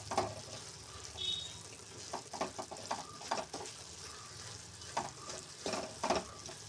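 A spoon scrapes and stirs broken wheat upma in a pan in repeated, uneven strokes over a soft cooking hiss, fairly close, with no one talking.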